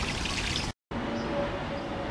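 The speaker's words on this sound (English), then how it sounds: "I love the sound of that waterfall in the evening" Backyard pond waterfall runs in the evening, a steady broadband rush of falling water heard fairly close and continuous, briefly cut to silence for a moment before resuming at the same level.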